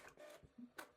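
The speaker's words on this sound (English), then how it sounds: "And now it will print on the other side of the page." A Canon PIXMA TR160 printer prints a page, giving short mechanical whirs and feed clicks close by in a quiet room, a brief burst of motor and paper movement.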